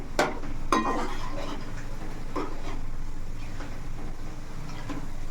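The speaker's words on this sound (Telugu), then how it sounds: "ఇలా చక్కగా దగ్గరుండి కలుపుకుంటా ఇలాగా వేపుకుంటే మనకి ముక్క అనేది పర్ఫెక్ట్గా అన్ని వైపులు బాగా వేగిద్ది" Chicken pieces for pickle frying in a pan while being stirred, with a steady background sizzle broken by a few sharp metal scrapes and clinks of the spoon against the pan early on.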